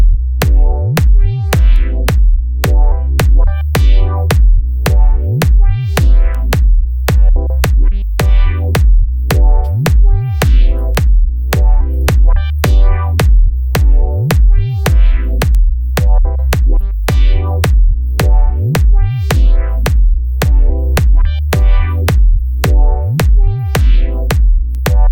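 Electronic track in mono, a deep sub bass and punchy kick drums thumping in a steady loop under filtered synth chords, loud and continuous with no voices.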